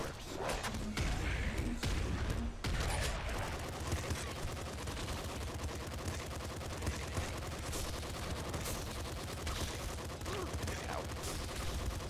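SMG gunfire in the video game Nuclear Throne, a dense rapid rattle of shots running almost continuously at moderate level, with faint game effects and little talk.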